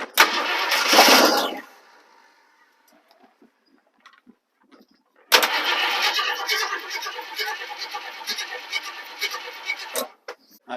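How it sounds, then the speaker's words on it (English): An old abandoned Ford Galaxie wagon cranks briefly, falls quiet, then cranks again and catches, settling into a rough, loud idle close by. "we'll see if it's going to turn over for us"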